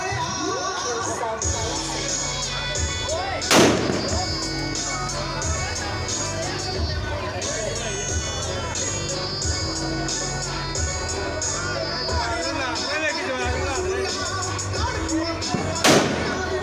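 Firecrackers set off during a Sikh nagar kirtan street procession in Tarn Taran, with two sharp, loud bangs cutting through a dense, continuous wash of crowd noise and music.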